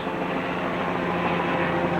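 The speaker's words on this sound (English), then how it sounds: "There's helicopters flying everywhere, doing all their surveying damage." Helicopters surveying Hurricane Katrina damage produce a steady, continuous rotor and engine drone, a loud unbroken hum filling the air with no talk.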